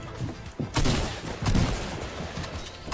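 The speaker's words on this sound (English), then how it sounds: "someone shot me" Gunfire in a video game: a few heavy shot bursts and booms in quick succession over a continuous rumbling game background.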